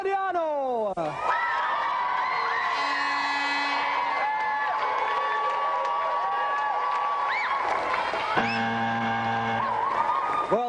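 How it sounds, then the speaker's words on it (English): A Games Master television studio audience whoops and cheers loudly and continuously over bright electronic show music and swooping sound effects. "let's have another round of applause for Nino, Martino and Angelo Gaudiano"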